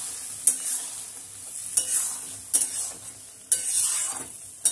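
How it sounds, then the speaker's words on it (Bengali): Boiled peas being stirred in a frying pan for ghugni, with a soft steady sizzle under four sharp scraping strokes of a spoon spaced about a second apart, close and clear with no voices. "এবার সিদ্ধ মটরটা দিয়ে দেবো পুরোটা, দিয়ে ভালো করে মিক্স করব।"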